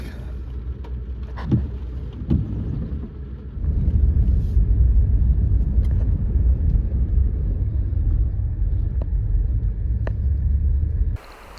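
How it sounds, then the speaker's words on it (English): A car climbs a mountain road near Mt Adams in late autumn, a steady low engine and tire rumble from inside the vehicle that grows heavier partway through, with faint knocks and no speech. "I can drive right up."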